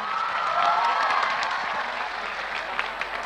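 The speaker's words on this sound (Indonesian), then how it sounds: "Berikan tepuk tangan 5 juta untuk Naya." An audience applauds steadily for a young woman named Naya at an Indonesian religious talk, a dense wash of clapping that holds even and full throughout with a faint swell early on.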